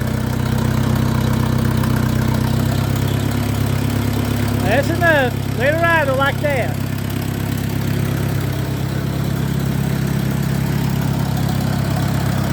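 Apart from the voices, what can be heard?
tractor engine idling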